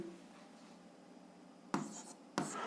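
A pen writing out an algebra solution: two brief scratchy strokes come after a stretch of quiet, faint and close.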